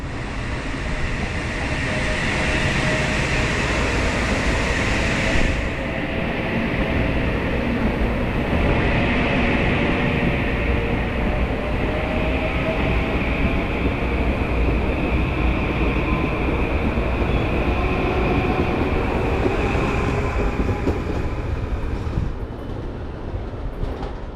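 Train 3542 rolls past Merritt 7 station in Norwalk with a loud, continuous rumble and rail hiss that holds steady for over twenty seconds before easing off, without any talking.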